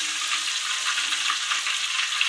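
Ikan peda or kembung fish fries in hot oil for a sour fried fish dish, giving a steady, dense crackling sizzle up close with no talking.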